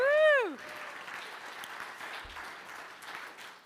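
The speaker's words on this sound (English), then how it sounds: "let's give them all another round of applause" Audience applause for a live band at a community gathering: a single voice whoops at the start, then steady, dense clapping continues at moderate loudness throughout.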